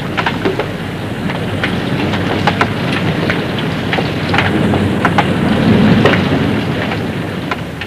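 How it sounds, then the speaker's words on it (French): Heavy rain at sea pours steadily with a dense hiss, scattered sharp drops and a low rumbling undertone like distant thunder. "C'est maintenant au tour de la pluie qui tombe tellement fort"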